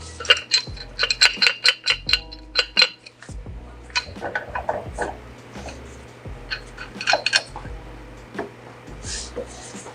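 Metal wrench clanking and scraping against a Cleco 75 Series nutrunner held upside down in a vise: a series of sharp metallic clinks and knocks in irregular bursts, close and fairly quiet, with brief talk in places.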